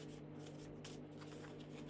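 A deck of cards for a board game is shuffled close by, giving brief, faint, soft riffling and rubbing bursts over quiet room tone.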